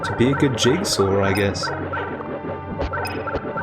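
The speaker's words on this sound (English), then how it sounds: "That's a bird noise you heard right there." Bird noises from the King Arthur and the Knights of Justice video game, turkey-like gobbling calls in quick repeated bursts, loud and close, with a game character's voice speaking over part of it.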